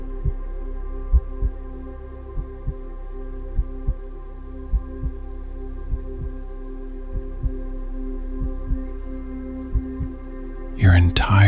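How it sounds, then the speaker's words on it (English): A slow, steady heartbeat thuds in soft paired beats over a low continuous hum, about a dozen beats at an even rhythm before a brief louder sound at the end. "Heart beating steady and strong."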